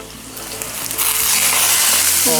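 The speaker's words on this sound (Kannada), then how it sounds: "ಈಗ ಇದಕ್ಕೆ ಸ್ವಲ್ಪ ಕರಿಬೇವು ಹಾಕೋಣ ಒಗ್ಗರಣೆಗೆ" Curry leaves dropped into hot oil for a Karnataka-style tempering, crackling and sizzling loudly and steadily, the spitting swelling in intensity partway through.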